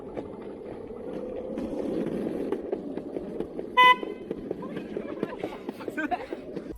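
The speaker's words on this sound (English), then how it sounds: "as I was honking my horn" An electric skateboard's horn gives one short, sharp honk mid-clip amid rolling wheel and street noise, with voices and passing traffic nearby.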